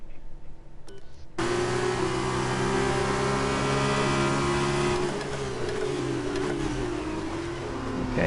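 Formula 1 race cars in the video game F1 2019, a loud, steady high-pitched engine drone that cuts in abruptly and holds with shifting pitch, close and continuous.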